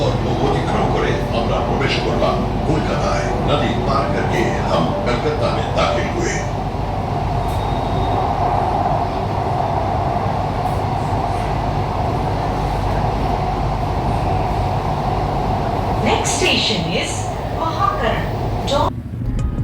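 A metro train under the Ganges at Esplanade, Kolkata, rumbles and hums continuously and loudly, with squeals and clatter near the end, and people talking nearby.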